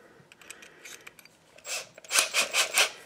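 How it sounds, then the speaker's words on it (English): A drill boring into a brass air-fuel screw: a grinding, scraping whir in four rising bursts near the end, after quieter scratchy handling noises. "you want to keep your drill bit straight here when you're doing this"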